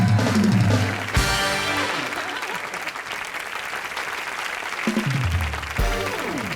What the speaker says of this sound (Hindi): शत्रु जी के लिए जोरदार ताली